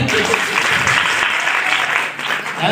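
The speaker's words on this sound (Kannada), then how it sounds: "ಚಪ್ಪಾಳೆ ತಟ್ರಿ" Loud, continuous clapping from an audience at a district legal services authority gathering in Bidar, sustained without pause and close.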